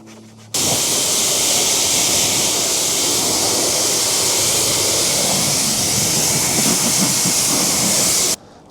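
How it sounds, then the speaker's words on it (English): A leaf blower roars steadily and close for about eight seconds, forcing pooled liquid out of the engine bay of a Mercedes S63 AMG, with a broad airy hiss that starts and stops abruptly. "fire up the leaf blower and just kind of blow out the little pooling of liquid in there"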